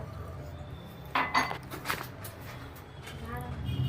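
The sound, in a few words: mixing flour and semolina in a bowl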